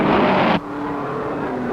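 Race cars roar past at the 1951 Indianapolis 500, a loud engine blast that cuts off abruptly and leaves a steady, droning hum of more distant cars.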